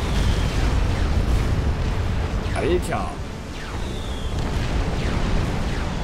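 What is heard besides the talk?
explosions in a video game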